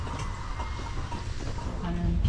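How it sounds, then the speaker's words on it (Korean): A steam locomotive at Mallaig station in the Scottish Highlands gives off a low, faint rumble of rolling stock, with people talking over it. "해리포터 다리를 건너는 증기기관차를 드디어 보게 됐네요"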